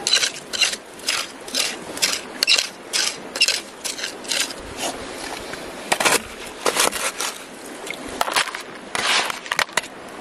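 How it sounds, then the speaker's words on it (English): Digging while prospecting for gold at Hells Gate, breaking into fractured bedrock, heard as a close series of sharp scraping and cracking impacts in an irregular rhythm, some louder and clustered together. "That's fracturing bedrock"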